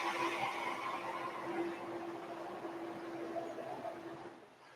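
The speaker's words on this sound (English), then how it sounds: "but it's quite noisy outside. There's a truck passing by." A truck passes by outside, heard indoors as a steady broadband rumble and hum that slowly fades over several seconds.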